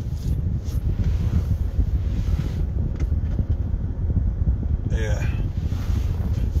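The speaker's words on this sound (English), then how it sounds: "Oh, it's windy." Gusty wind buffets the microphone with a constant low rumble, a brief whistling tone near the end.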